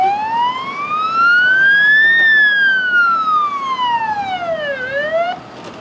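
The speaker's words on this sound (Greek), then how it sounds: "μέσα σε λίγα λεπτά καταφτάνουν περιπολικά που βρίσκονταν σε κοντινή απόσταση" Police patrol cars arrive at the scene of a fatal crash in Nicosia, their siren loud and close, sweeping up in a long wail, falling slowly, then rising again.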